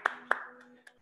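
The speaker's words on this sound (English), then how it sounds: "Clap it up for yourself. Clap it up. Clap it up." Participants in a live fitness workout clapping for themselves, two sharp close hand claps followed by a softer, faint third, with a voice talking underneath.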